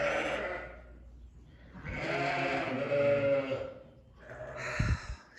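Sheep bleating on a farm as lambing approaches, several loud, drawn-out bleats close by with quieter gaps between them.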